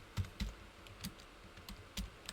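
Typing on a computer keyboard while editing a spreadsheet: a handful of sparse, quiet key clicks spaced irregularly across a short, otherwise hushed stretch.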